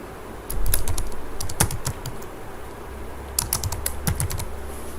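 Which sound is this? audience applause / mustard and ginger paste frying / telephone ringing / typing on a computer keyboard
typing on a computer keyboard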